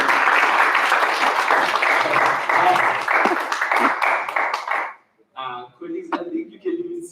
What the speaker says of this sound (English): Can you please give him a round of applause once more?